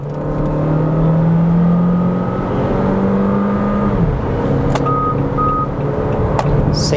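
A Jeep Compass Série S T270 from 2022 accelerates at full throttle uphill from 60 toward 120 km/h, its engine note climbing steadily in a sustained droning rise heard from inside the cabin, with faint clicks over it.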